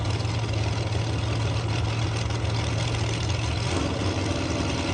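A dragster with a small supercharger idles at a drag strip, a loud, steady, throbbing engine drone close by with a low hum that shifts near the end.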